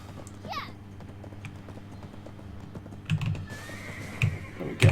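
Horse in Black Desert Online gives a short neigh near the start, then clip-clop hoof steps and game sounds follow, with louder thumps toward the end, all mixed over a steady low background hum.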